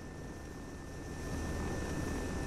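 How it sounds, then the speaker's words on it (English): Helicopter in the military video game ARMA 3, a steady, faint rotor and turbine drone with a thin whine held throughout, growing slightly louder midway. "So can you hear the helicopter?"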